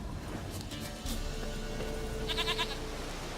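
Goat bleating in The Witcher 3: Wild Hunt, a short, faint, quavering bleat rising briefly over a steady ambient game background of wind and hum.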